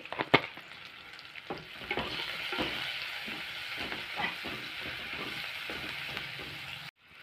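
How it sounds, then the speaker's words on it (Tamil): Onions with salt sauté in a pan, a soft continuous sizzle broken by light stirring scrapes and clicks, fairly quiet, with no one talking. "நல்லா வெங்காயம் வதங்கிருச்சு"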